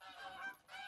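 Geese honk in Call of the Wild, a hunting video game, with a brief flurry of overlapping nasal calls at moderate distance, fairly faint and with no talk over them.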